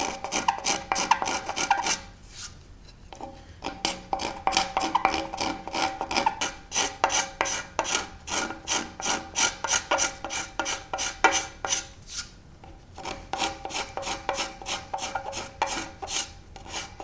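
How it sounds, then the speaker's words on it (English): A cabinet scraper rasps steadily along the Osage orange wood of a selfbow, close-up, in fast repeated strokes with two brief pauses and no talking. "we're gonna take this cabinet scraper and probably just use that little curved edge down there. Slowly scrape that stuff up."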